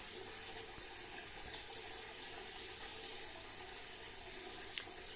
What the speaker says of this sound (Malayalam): നിങ്ങളിപ്പോൾ കേട്ടുകൊണ്ടിരിക്കുന്ന മൊത്തം വോർട്ടെക്സിൽ നിന്ന് വെള്ളം വീഴുന്നതിന് സൗണ്ടാണ്